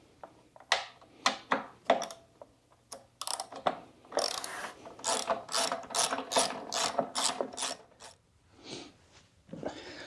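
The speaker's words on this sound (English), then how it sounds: "we're going to use a 10 mil socket to take it off" Close ratchet clicking from a 10 mm socket wrench removing cover bolts on an Exmark Commercial 30 mower, with sharp isolated ratchet bursts at first, then a long rhythmic run of repeated clicks and a few softer ones at the end.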